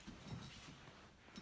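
A pet dog whimpers and yips faintly in a couple of short bursts, soft and somewhat distant, with no talking.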